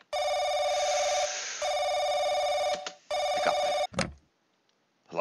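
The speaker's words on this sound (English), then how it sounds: "Phone." An old-style telephone bell rings loudly in the horror video game The Crooked Man, three long buzzing trills separated by short pauses, followed by a click as the receiver is picked up.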